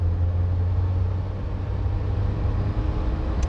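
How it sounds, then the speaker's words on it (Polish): Engine of a 1983 Saab 99 driving, a steady close-up drone with a deep low hum that holds evenly throughout, with no voices. "On ma taki swój specyficzny dźwięk, wiesz, charakterystyczny"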